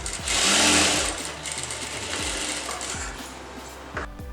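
A sewing machine stitching the back dart of a blouse, a close, loud mechanical whirring burst up front, then quieter rhythmic stitching runs with short pauses in between.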